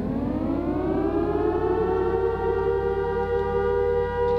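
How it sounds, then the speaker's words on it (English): A loud civil-defense style nuclear siren in a Roblox game wails continuously, its tone slowly rising and holding steady, with no other sounds present. "The nuclear siren."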